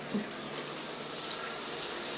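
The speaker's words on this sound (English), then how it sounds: "I'm going to start off by showering and shaving the legs" Water from a running shower pours down in a steady hiss, close and constant, with a slight rise in force after the first half second and no speech over it.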